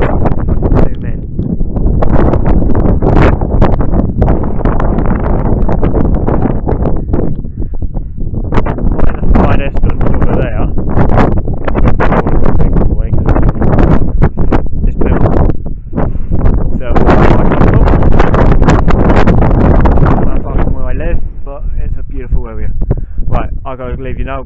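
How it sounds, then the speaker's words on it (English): Strong wind on open Dartmoor moorland buffets the microphone in a loud continuous roar with gusty surges, while someone talks throughout. "I want to get down out of this wind, because it's actually quite windy"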